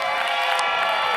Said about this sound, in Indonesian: tapi tepuk tangan dong untuk Sinden Kondiang